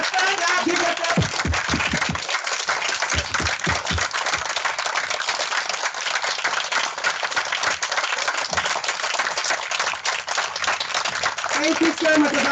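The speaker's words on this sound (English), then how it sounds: "give a real round of applause for everyone because this was amazing" Sustained audience applause and clapping filling a tent during a 2021 team celebration event, dense and steady throughout with crowd noise and scattered voices mixed in.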